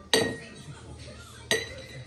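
Three drinking glasses clink as they are taken out and set down in a home kitchen, with two sharp, bright glassy knocks about 1.4 seconds apart and a quiet background between them.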